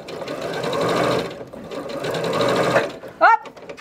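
A sewing machine stitches a quilt block in two close, loud bursts separated by a brief pause, and a short voice is heard at the end.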